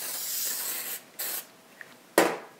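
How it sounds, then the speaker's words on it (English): Short hissing bursts of flour-containing cooking spray onto a pan, three close sprays separated by brief pauses, with a faint clink between them. "So we're going to take some of our cooking spray."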